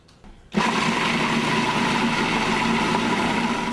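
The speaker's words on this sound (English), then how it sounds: "we can get this processor moving" A food processor blends beans and walnuts for brownies, starting after a brief quiet lead-in with a loud, steady whirring motor drone that holds constant and close.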